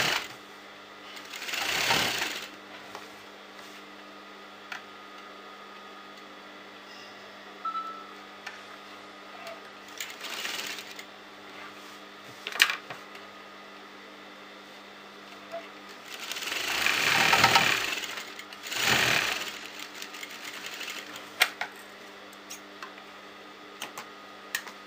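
Sewing machine stitching churidar salwar fabric in several short runs, the longest a few seconds, fairly faint against a steady background hum and small clicks.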